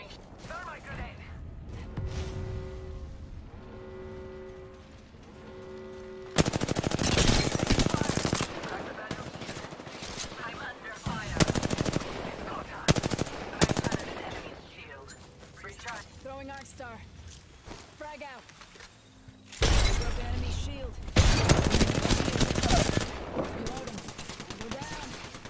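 Bursts of video game gunfire aimed at the player, heavy automatic volleys that come in loud clusters between quieter stretches, with a voice speaking in places and other game effects around them.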